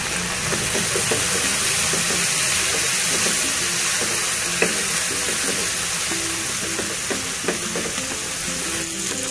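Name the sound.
stirring red chili powder into frying khichdi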